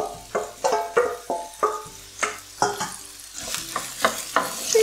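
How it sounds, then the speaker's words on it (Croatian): Sliced button mushrooms and onion frying in a pan, a low sizzle beneath repeated loud scrapes and knocks of a spoon stirring, about a dozen strokes in an uneven rhythm, close up with no talking. "I sad odmah na luk stavljamo i narezane šampinjone."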